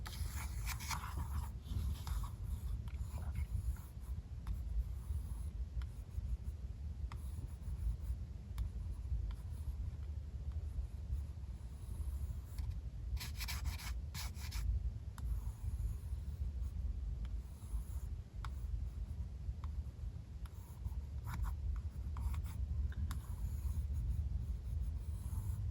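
A pencil, held loosely, sketches the outline of a face on paper, its soft continuous scratching and scraping running steadily throughout with no talk.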